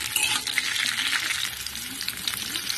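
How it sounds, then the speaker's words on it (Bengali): Cut papaya and drumstick pieces frying together in oil for Bengali shukto, a dense, steady sizzle close up with stirring scrapes throughout. "সব সবজিগুলো একসঙ্গে আমি একটু ভেজে নেব।"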